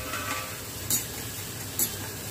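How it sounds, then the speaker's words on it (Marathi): Sweet corn kernels being stirred in a hot pan, with a steady low sizzle and two short metallic clinks of the spoon against the pan. "या स्वीटकॉर्नला हलवून घेऊया।"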